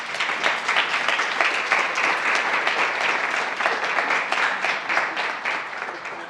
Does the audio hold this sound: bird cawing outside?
no